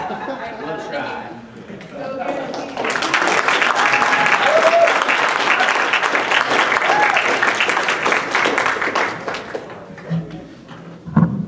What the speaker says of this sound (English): I'm going to assume that clapping was for me and not for Keep It Clean